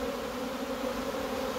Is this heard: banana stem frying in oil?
no